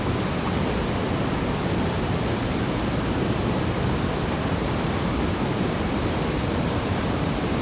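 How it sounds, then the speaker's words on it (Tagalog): Flowing river water in the Minami Alps of Japan, a steady, dense rushing roar holding constant throughout with no voices over it. "Ganda ng tunog ng tubig."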